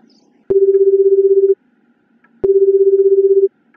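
A telephone number is dialed in two distinct, loud single-pitch tones, each lasting about a second and separated by a short silence.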